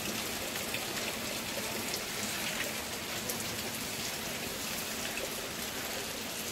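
Steady rain falls outdoors onto small pink and yellow trang (ixora) flower plants, a dense continuous patter of drops with no voices, even and unbroken throughout.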